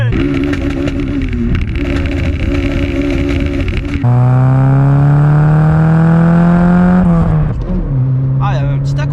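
A Citroën Saxo VTS fitted with a Groupe N exhaust line idles loudly and close up, then accelerates hard with a steadily rising, raspy engine note and a brief dip at a gear change.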